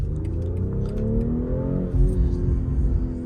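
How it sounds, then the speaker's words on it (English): A 2023 BMW X3 M40 accelerating, its deep steady exhaust rumble rising in pitch, with brief crackles and pops mixed into the drone from inside the cabin. "The exhaust crackles and pops are really nice."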